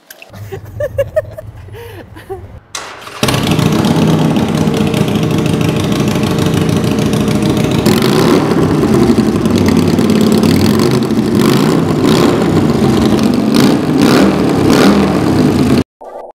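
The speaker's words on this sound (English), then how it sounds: "you can see how these amazing pipes sound" Harley-Davidson Sportster 883 motorcycle with aftermarket exhaust pipes: brief voices and handling noise, then the engine fires up loud and runs in a steady, throbbing rumble before cutting off abruptly.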